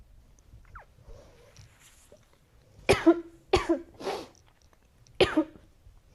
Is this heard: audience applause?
no